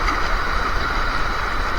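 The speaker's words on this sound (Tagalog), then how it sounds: "Ay malakas yung agos." A strong river current rushes past at a resort river, a loud, close, continuous watery roar with steady churning and no voices over it.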